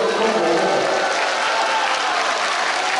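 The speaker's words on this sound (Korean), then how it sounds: "박수 한번 크게 치세요" A large audience applauds at an outdoor rally for liberal unification in Incheon, steady loud clapping that fills the whole stretch without a break.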